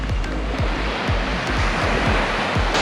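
Green-blue ocean water at Miura Kaigan beach in Japan on a calm, gray day makes a steady broadband rush of surf close by, with soft repeated low thumps of small waves and no voices.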